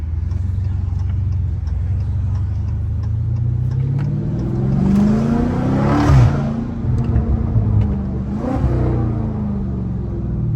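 A Dodge Challenger Scat Pack 392 revs and shifts gears while driving, a deep V8 rumble climbing in pitch, dropping at each shift and rising again, loud and close with repeated gear changes.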